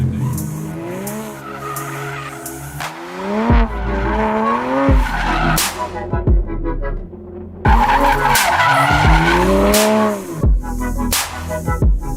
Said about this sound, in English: has offered to do some circles with his car